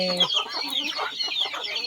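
Chickens cluck in a busy, overlapping chatter, with sharper calls on top, close by and fairly steady throughout.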